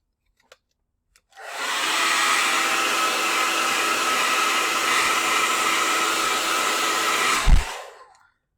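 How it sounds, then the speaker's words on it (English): A hair dryer on its cold setting blows into the game card port of a Nintendo Switch, giving a steady, loud, close whooshing roar for about six seconds, preceded by faint clicks and ending with a thump as it switches off. "you can use a hair dryer, but just make sure you're powered all the way down"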